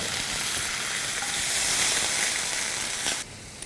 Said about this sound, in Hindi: अब इसे हम भूनेंगे जब तक कि अनियंस कंप्लीटली ब्राउन नहीं हो जाते